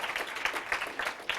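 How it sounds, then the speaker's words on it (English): A small audience claps for a scorekeeper at a Knowledge Bowl quiz competition: brief, faint, scattered hand claps with a few sharper individual slaps, heard at a distance. "Round of applause, Christina. Round of applause."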